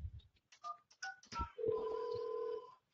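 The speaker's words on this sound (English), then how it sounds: "So if I physically dial," DTMF dialing tones from an Ericsson LG desk phone: a quick series of short two-tone beeps, followed by one long steady tone. Close and fairly quiet, with no talking.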